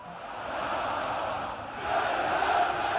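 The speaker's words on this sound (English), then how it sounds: "In America, there's almost no crowd chants, but here it sounds like this" A crowd fills a European stadium with loud, steady chanting, a broad roar of many voices that swells louder toward the end.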